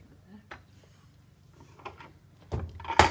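A hand file rasps across a piece of acrylic clamped in a vise in a few short, scraping strokes at close range, quiet at first and growing louder and harsher toward the end.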